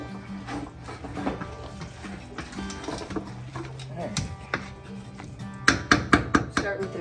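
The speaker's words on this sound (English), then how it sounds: "got all the beans in there, got the bacon in there, got the meat in there, so kind of mix it up a little bit" Beans, bacon and meat being stirred together in a pot for cowboy beans, with a steady run of soft scraping and knocking that turns into sharper, louder clanks near the end.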